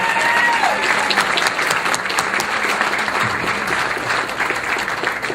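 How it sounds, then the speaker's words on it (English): Sustained audience applause fills the hall at the Italian American Museum's Ambasciatori Award ceremony, a dense, steady wash of many hands clapping at close range, with no voices rising above it. "Doesn't he deserve another round of applause for Ralph Tedesco?"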